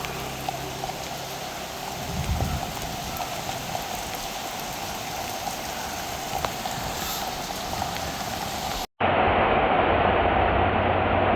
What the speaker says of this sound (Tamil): உப்பா சரியான மழை பெய்தது.